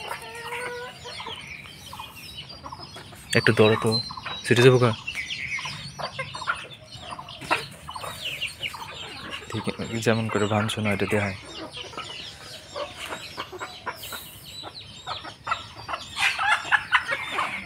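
Native hens and roosters cluck and squawk at a village chicken market, with several loud bursts of fowl calls rising over steady crowd chatter and people talking nearby.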